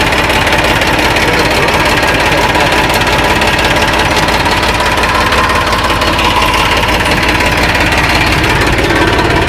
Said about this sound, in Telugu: ఇప్పుడు బండి స్టార్ట్ చేసి చూస్తాం.